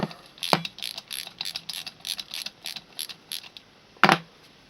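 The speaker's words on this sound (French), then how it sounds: "Et vous desserrez et vous faites le même pour les 6 boulons." Flat wrenches loosening the six engine nuts on a Peugeot 103/105 moped engine during a rebuild give a run of quick, close metallic clicks and ticks in an uneven rhythm, with a sharper clack near the end.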